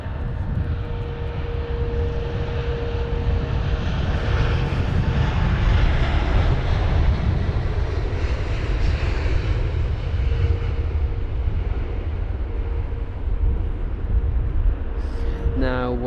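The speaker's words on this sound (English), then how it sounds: "Yeah, it's on the ground, reverse thrusts are active." A British Airways Boeing 787-10 Dreamliner lands at London Heathrow in stormy wind and deploys reverse thrust, producing a loud, sustained engine roar that swells and holds, with a person talking over it.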